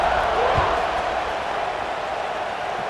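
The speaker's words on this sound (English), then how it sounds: "this crowd is buzzing after that last score" Stadium crowd buzzing in EA Sports College Football 26 after a score, a steady roaring murmur of many voices with a brief thump early on, fairly loud and continuous.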